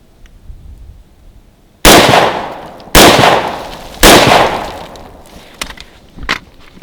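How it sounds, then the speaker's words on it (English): Three loud rifle shots fired downrange at a steady interval of about one second, each a sharp blast with a short decaying tail, followed by a few fainter pops and clicks at a shooting range. "we're going to see him put some rounds down range in this first shot string"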